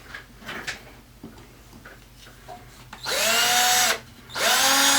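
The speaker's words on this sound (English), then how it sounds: "And I'm just going to drill this out." A power drill bores a hole through a steel Remington 870 shotgun magazine tube: after a second or so of quiet handling clicks, two loud sustained whining bursts of drilling follow, separated by a short pause, close up.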